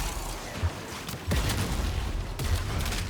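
The Coda Bassocyst weapon firing in the video game Warframe, heavy booming bass blasts that roll into a sustained rumbling barrage, loud and close, with no talking.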